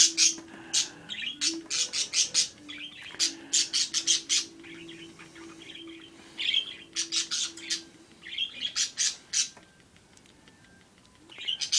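A parakeet chirps in rapid, bright bursts of tweets and squawks, several clusters of repeated notes close by with short pauses between them and a faint low hum underneath.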